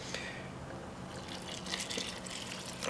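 A yeast mixture poured into flour for homemade pizza dough makes a steady, soft liquid trickle with faint splashes, close by and with no talking.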